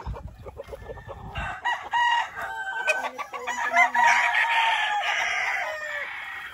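Chickens cluck and a rooster crows amid a busy, layered flock on a chicken farm, with overlapping calls building louder over several seconds.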